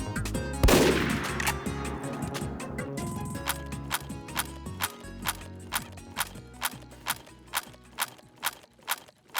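Gunfire from a gun in an indie video game: one loud blast opens, followed by a run of evenly spaced sharp shots at a steady rhythm over a tonal backdrop.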